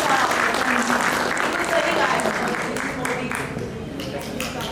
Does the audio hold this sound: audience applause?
yes